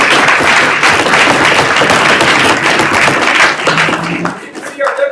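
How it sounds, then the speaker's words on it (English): Audience at a debate on genetic editing of embryos giving a loud, sustained round of applause that thins out near the end, where a voice briefly begins speaking. "I think another round of applause is in order for our engineers."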